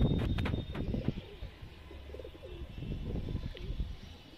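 A pigeon coos in a series of soft, low, rolling calls, close by, with a few brief chirps from other birds early on and faint ambient noise behind.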